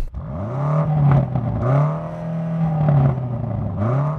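A BMW M8 engine revs up repeatedly and holds at its soft rev limiter, dropping and climbing again in several loud, sustained pulls.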